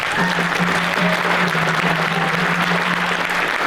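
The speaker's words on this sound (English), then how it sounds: "Let's give him a round of applause." An audience at an Indigenous wellness conference claps in steady, dense applause that holds at an even loudness from start to finish, with a faint tone running underneath.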